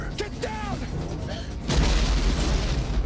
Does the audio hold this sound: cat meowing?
no